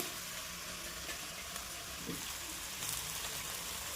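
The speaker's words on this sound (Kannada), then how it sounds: "ಈಗ ಹೆಚ್ಚಿಟ್ಟಿರೋ ಬೆಂಡೆಕಾಯಿ ಹಾಕ್ಕೊತಾ ಇದ್ದೀನಿ" Chopped okra stir-frying in a pan makes a continuous, fairly loud hiss and crackle throughout, with a faint scrape of stirring partway through.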